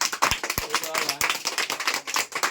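Children in a class clap loudly in quick, uneven bursts, a close rattle of sharp hand claps with a few heavier thumps mixed in and some voices underneath.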